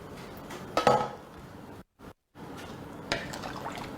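Water poured into a pot of potatoes in a kitchen cooking session, heard as short splashing and trickling bursts with clinking against the pot, broken by a brief gap of silence.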